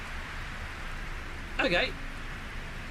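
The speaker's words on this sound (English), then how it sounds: "Here you go, it's raining." Rain falls in the space exploration game No Man's Sky as a soft, steady hiss throughout, with a voice briefly speaking over it.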